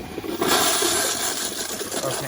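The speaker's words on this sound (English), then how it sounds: "here's a little bit of a weaker flush" A Kohler Kingston toilet gives a weaker flush, a rushing swirl of water that starts abruptly and drains steadily for a couple of seconds at close range.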